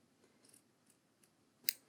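Scissors snip off excess tape while tying up a board in a preservation setting, a single crisp metallic cut near the end after a few faint soft clicks, in an otherwise quiet room.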